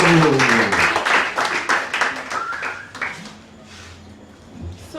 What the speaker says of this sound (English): Please clap for this miracle working Jesus beautifully.